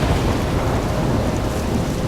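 A thunderstorm in the video game Life is Strange rumbles steadily and loud, with heavy rain and low thunder filling the whole stretch without a break.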